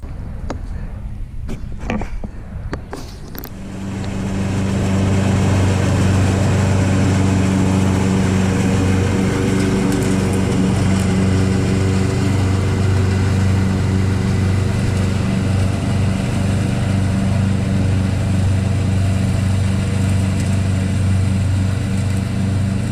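Lawn mower mowing grass: after a few seconds of handling clatter the engine starts and runs steadily, a loud, close, continuous drone with no talk.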